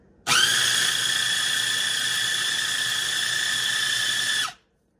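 A small mini food processor grinds salted peanuts into peanut butter, giving a steady, high-pitched whirring motor whine with no talk. It starts abruptly, holds an even pitch for about four seconds, then cuts off.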